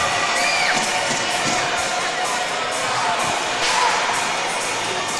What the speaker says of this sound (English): the crowd goes crazy here